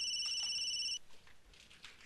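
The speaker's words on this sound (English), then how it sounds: "That's my phone." A phone rings with an electronic warbling tone for about a second, then cuts off, leaving quiet room sound behind it.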